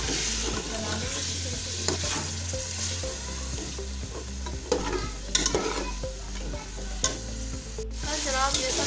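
Spices stirred into frying mutton with turnips for shaljam gosht give a continuous sizzle, with the utensil scraping and clinking rhythmically against the pot nearby.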